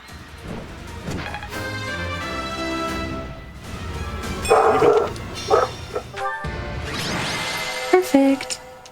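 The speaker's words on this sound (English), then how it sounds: "Don't mind my dogs barking." Several dogs bark in short excited bursts indoors, mixed with a person talking and background noise, the barking rising and loudest in the middle stretch.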